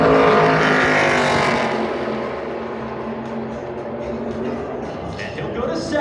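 A NASCAR Craftsman Truck Series truck screams past on a qualifying lap at Phoenix Raceway, its engine loud and close at first, then fading into a steadier distant drone as it heads through turns 3 and 4, with commentary over it.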